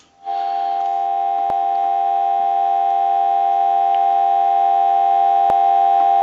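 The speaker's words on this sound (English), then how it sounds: "and I want to give you some dial tone." A steady telephone dial tone heard through an analyzer on an AE Space Maker 183 telephone under repair: one continuous loud hum starting abruptly and holding without a break.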